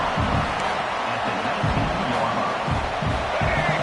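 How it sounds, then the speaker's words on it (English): Stadium crowd in an NCAA college football video game swelling and cheering in a broad, steady roar, with low rhythmic rumbles pulsing underneath throughout. "And the crowd coming to life here, trying to help this defense down in the red zone."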